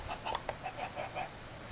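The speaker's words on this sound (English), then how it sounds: "The last step is to just spawn chickens in." Chickens spawned in the Minecraft video game give several short, moderately loud clucks in a loose irregular rhythm, alone without any talking.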